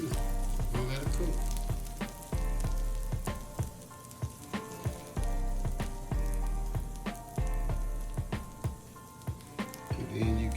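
Egg-dipped bread for French toast sizzles loudly in a buttered pan, a steady frying hiss broken by repeated sharp taps and clanks of utensils against the pan.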